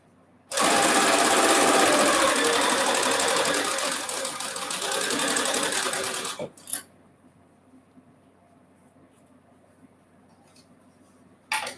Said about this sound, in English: And give it a sew.